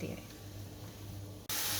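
Mushrooms frying in a spoonful of oil in a pan give a steady soft hiss, with a louder burst of sizzle near the end.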